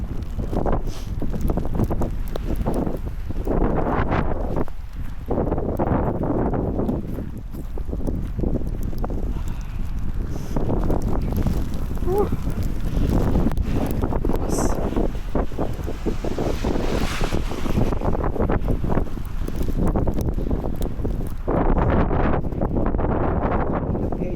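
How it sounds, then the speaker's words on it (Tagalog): Strong wind roars steadily against the microphone throughout, buffeting in loud gusts with low rumbling and occasional faint voices beneath, with snow blowing into the face outdoors in Canada. "Lakas ng hangin."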